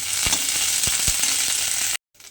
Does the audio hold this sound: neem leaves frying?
yes